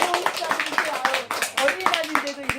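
An audience at a Children's Day current-affairs briefing claps in quick, uneven bursts, fairly close and loud, with a voice talking over the applause.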